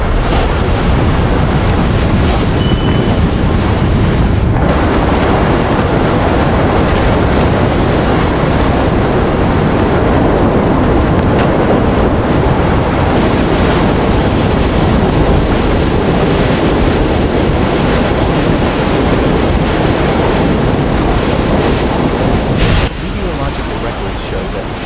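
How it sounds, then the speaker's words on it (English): Typhoon Podul's powerful winds and surging waves battering coastal breakwaters in southern Taiwan, a loud unbroken roar of wind buffeting and crashing surf that persists throughout. "The powerful winds, accompanied by surging waves, repeatedly battered the coastal breakwaters."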